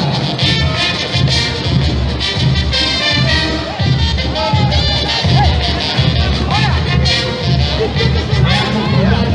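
Dense street crowd at a Recife carnival parade, cheering and clapping warmly for a mixed carnival troupe marching along the avenue, a continuous loud roar of voices and applause with music in the mix.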